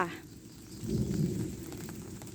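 Rain keeps dripping in a rubber plantation just after a downpour, a soft patter of drops on leaves with a low, rumbling swell in the middle.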